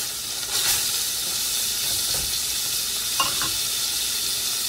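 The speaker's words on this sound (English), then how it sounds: "I'm cooking my burger in the bacon fat" A burger fries in bacon fat in a pan, giving a steady loud sizzle with a few soft scrapes and clicks from stirring with a spoon, no talking.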